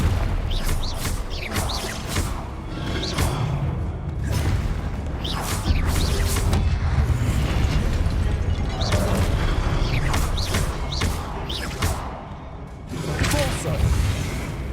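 Confringo blasting spells fire repeatedly in Hogwarts Legacy combat, a series of booming, whooshing explosions with dense rumbling effects and game music, loud and continuous across the stretch.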